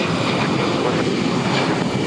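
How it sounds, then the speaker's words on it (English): A steady, loud broadband roar from an Airbus A319 airliner accelerating down runway 22 right at Boston Logan airport, with a constant engine rumble and no voices. "it's like an A319 rolling down 22 right"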